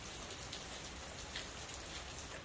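Rain falling outdoors, a steady, dense patter with faint scattered drips, constant and even throughout.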